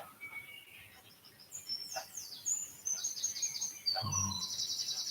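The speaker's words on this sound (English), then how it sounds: "It's the sound of the birds." Morning birdsong: a few scattered chirps and high whistled calls, soft and somewhat distant, with a brief low thump near the end.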